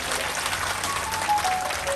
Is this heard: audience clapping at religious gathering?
yes